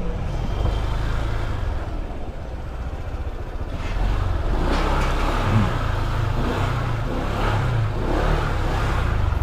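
Motorcycle engine running along a narrow road on the Bilaran sandbar in Pagbilao, Quezon, a steady close drone that rises as the rider accelerates midway and keeps going.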